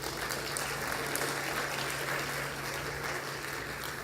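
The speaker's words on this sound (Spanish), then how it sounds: "vamos a recibirla con un aplauso" Sustained applause from an audience at an academic panel session welcoming a speaker to the stage, a steady wash of clapping heard at a moderate distance with a low hum underneath.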